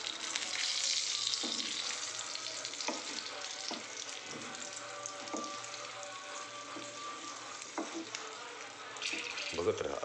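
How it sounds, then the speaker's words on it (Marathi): Stuffed masala chillies fry in a pan with a steady loud sizzle and occasional stirring clicks and pops, close up throughout. "बाजू तिचे छान फ्राय झाले पाहिजेत."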